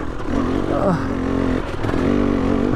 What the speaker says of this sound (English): now I'm going full throttle. It starts to pick up.